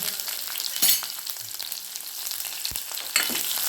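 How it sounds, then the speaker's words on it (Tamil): Onions frying in oil alongside spluttering mustard seeds and broken dried red chillies, a dense close sizzle with crackles throughout and a few louder bursts, no talking. "நல்லா கடுகு நல்லா பொரிஞ்சு பிறகு வெங்காயம் சேர்த்துக்கலாம்"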